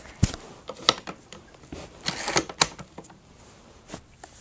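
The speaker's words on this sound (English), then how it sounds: "All I'm going to do is pull that up, pull it back, and close it back down." A Black Eagle M6 airsoft rifle's bolt is lifted, pulled back and closed, giving a run of sharp metallic clicks and clacks up close, with no talking.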